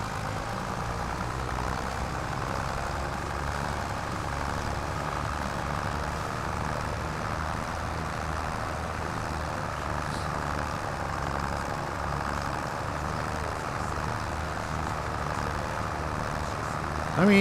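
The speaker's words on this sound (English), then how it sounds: "I mean, it's not the fastest tractor." A tractor engine in Farming Simulator 25 drones at a steady, even pitch throughout, a constant low mechanical hum with no talk over it.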